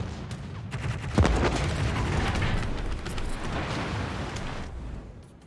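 Gunfire in a space fighter combat video game: a rolling stream of loud, close shots and booms, with one sharp heavier blast early on and a sustained barrage that thins out at the end.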